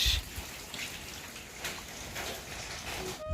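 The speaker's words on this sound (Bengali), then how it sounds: "এখন আবার বৃষ্টিটা কমতেছে" Rain falls steadily from an overcast sky, a soft, even hiss of drops that stays faint and constant throughout, with no voices.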